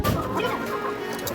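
A chicken clucks close by in a short, busy burst of calls against a home setting.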